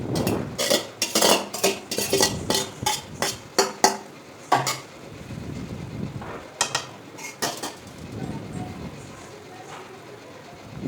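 Cooked rice stirred into vadi biryani in a metal pot, a run of loud scraping and clanking spoon strokes up front, then quieter, sparser scrapes and clinks, with a voice talking in places.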